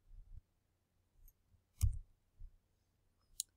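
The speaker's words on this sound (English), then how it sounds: "Let's type this into the calculator." Calculator buttons pressed a few times, producing faint, scattered soft clicks spaced over a few seconds in an otherwise quiet room.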